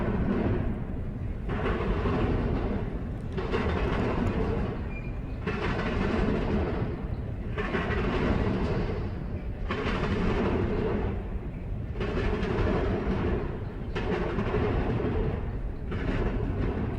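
A long freight train passes close by with a loud, continuous rumbling roar that swells and dips in a regular rhythm as the cars roll past, with no voices.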